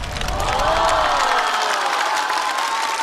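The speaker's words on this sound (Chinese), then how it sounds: "掌声送给林琛。" A stand-up comedy show's studio audience claps and cheers for a comedian, a bright burst of applause and whoops that fades while a rising, sweeping musical tone plays over it.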